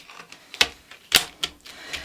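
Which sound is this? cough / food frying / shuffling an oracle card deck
shuffling an oracle card deck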